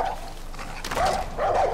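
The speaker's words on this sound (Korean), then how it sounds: "또 멍멍이?" A dog barks in the video game Far Cry 5, with two short bark bursts close together toward the end, over a low game background and without speech.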